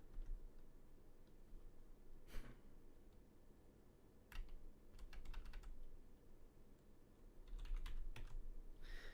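Quiet, close computer keyboard typing comes in short bursts of rapid key clicks with pauses between, as a command is entered.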